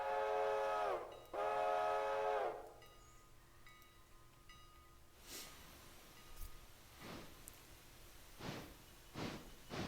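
A freight train rolls down a mountain grade with its handbrake applied, opening with two loud, sustained whistle-like screeches, then quieter rumbling with scattered sharp squeals and clanks.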